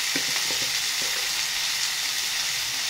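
Ivy gourd (donda kai) sizzles steadily in hot oil with turmeric, coriander powder and chili powder, a loud, continuous frying hiss with a few faint stirring clicks and no talking.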